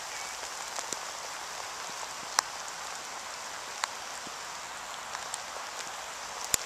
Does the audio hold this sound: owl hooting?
no